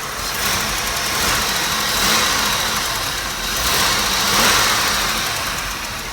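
A Chevrolet Malibu engine idling with a slight ticking, heard as a broad, steady running noise that swells gently a few times, close and fairly loud.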